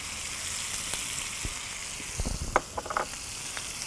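Butter sizzling in a pan as a roasting beef joint is basted, a steady soft fry hiss with a few brief spoon clinks and spattering crackles toward the end.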